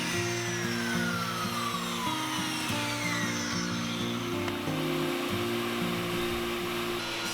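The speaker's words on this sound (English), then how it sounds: "to cut those I used the crosscut sled here and just made a series of cuts" A table saw with a crosscut sled cuts dados in birch plywood shelf stock, a steady loud motor whine with shifting tonal hum as the blade bites through repeated passes, no talk.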